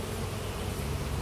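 Bees in an open beehive being inspected after two years, a dense, steady, close buzzing swarm drone that fills the air evenly with no pauses.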